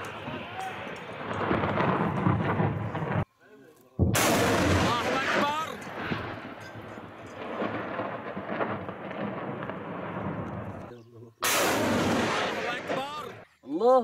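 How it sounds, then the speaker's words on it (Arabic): Rocket and artillery shelling of regime positions on Tshalma summit in the Latakia countryside, Syria, heard as loud, sustained rumbling blasts and barrages that roll on for seconds, broken by two brief lulls. "قصف مواقع الشبيحة في تشالما"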